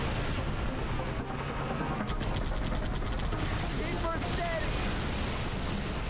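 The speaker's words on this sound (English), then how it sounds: "Dude, I'm trying to dodge these damn cannons." Cannon fire in the Halo 3: ODST video game booms and crackles amid dense, noisy battle sound, with bursts of rapid shots and explosions layered over a loud continuous rumble.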